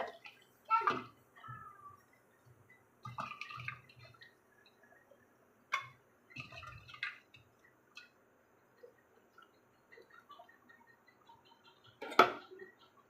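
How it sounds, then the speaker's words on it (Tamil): Raw chicken going into a pot of tomato masala and being stirred, with several separate wet plops, squelches and scraping clinks spaced out over quiet gaps, fairly close. "இப்போ இந்த ஸ்டேஜில் நம்ம சிக்கன் ஆட் பண்ணிக்கலாம்."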